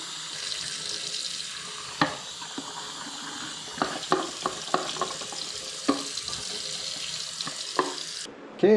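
Tap water running into a sink while water is exchanged in a film developing tank at home, a steady hiss broken by several sharp knocks and clunks of the tank being handled, fairly close.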